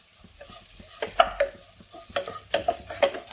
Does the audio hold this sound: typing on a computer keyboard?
no